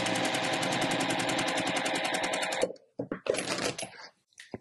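A sewing machine stitches flying geese quilt units together, a fast, even mechanical chatter that runs close and loud for about two and a half seconds, then stops, followed by a few short bursts of handling noise.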